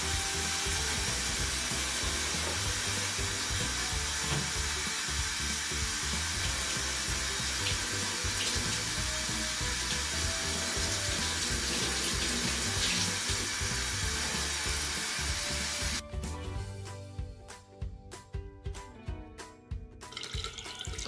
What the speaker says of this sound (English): I'm about to go literally spray myself in the face with the shower.